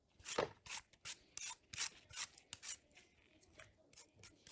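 An OXO vegetable peeler scrapes along a raw nagaimo root in quick, rhythmic rasping strokes, about a dozen short passes up close with brief pauses between them.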